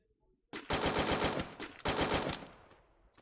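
Rapid automatic gunfire from a gun in the Free Fire video game comes in two close, loud bursts of quick repeated shots, the second one fading out.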